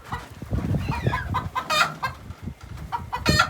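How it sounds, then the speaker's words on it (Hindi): Chickens on a home rooftop or yard cluck and call repeatedly, close and fairly loud, with a few longer crowing-like cries rising over the steady fowl chatter. "ये देखिए ये मुर्गा ऐसे बोल रहा"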